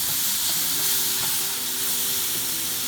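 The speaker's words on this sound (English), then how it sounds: "We're just going to add in some garlic, and we're just going to saute that for about 30 seconds." Garlic sautés with vegetables in a pot, a steady close hiss and sizzle with faint soft clicks of stirring, no voices.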